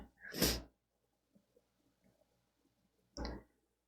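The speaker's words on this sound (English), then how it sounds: "I'm going to sneeze because I didn't take allergy medicine last night." Two sharp sneezes, one near the start and another about three seconds later, with quiet faint rustling in between.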